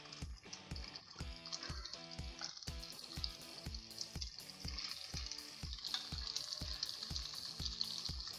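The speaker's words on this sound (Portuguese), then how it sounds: "Eu vou tirar a minha massa aqui, vou jogar direto na frigideira." Pasta tossed straight into a frying pan with rendered bacon fat for carbonara, a busy close sizzle punctuated by regular rhythmic knocks of pan or utensil, with no one talking.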